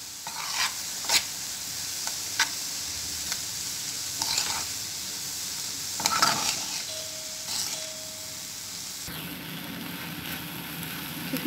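Ingredients fry in a pan for a savory kefta dish, a steady close sizzle with intermittent scraping and clinking of a utensil stirring throughout.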